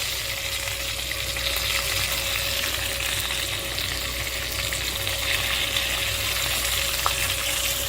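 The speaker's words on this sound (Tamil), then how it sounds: "நல்லா ஃப்ரை பண்ணிக்கோங்க" Curry leaves and asafoetida fry in hot coconut oil for coconut rice, giving a steady close sizzle and crackle that continues without a break, with no voices over it.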